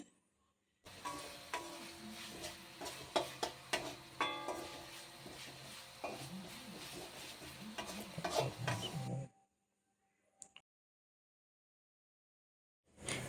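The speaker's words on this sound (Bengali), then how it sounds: "এইভাবে মিনিট 2 মতন একটু নেড়ে চেড়ে নেবেন কড়াইতে।" A utensil scrapes and stirs garlic paste steadily through sizzling oil in a wok for several seconds, then the sound cuts out, leaving near silence with one faint knock.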